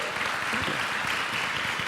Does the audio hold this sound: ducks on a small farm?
no